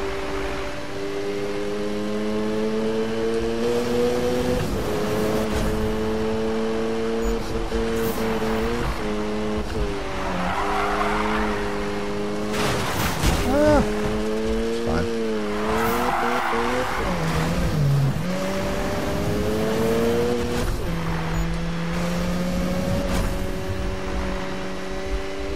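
A Mazda RX-7 in a racing video game, its engine revving and shifting through rising and falling tones while tires squeal in repeated skids, loud and continuous with no talking.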